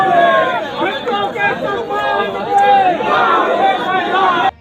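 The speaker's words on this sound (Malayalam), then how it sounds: "അന്ന് രാഹുൽ ഗാന്ധി ഇവരുടെ കുടുംബത്തെ സന്ദർശിക്കാൻ എത്തിയപ്പോൾ തടിച്ചുകൂടിയ ആൾക്കൂട്ടമാണ്" A large crowd gathered for Rahul Gandhi's visit to a family's home, with dense overlapping chatter and shouting voices that fill the clip at a steady, loud level before cutting off abruptly at the end.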